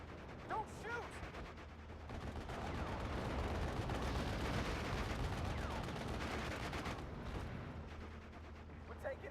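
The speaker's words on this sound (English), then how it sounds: "We're taking heavy fire." Heavy gunfire rumbles through a World War II battle in Normandy in the strategy game Steel Division: Normandy 44, a dense, continuous barrage at moderate distance, with brief voices at the start and end.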